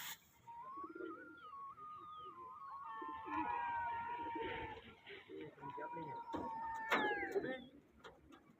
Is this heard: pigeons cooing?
yes